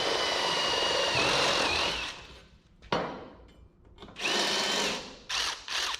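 A power drill whines steadily for about two seconds, then stops; after a short pause it runs again in a few shorter, loud bursts close by.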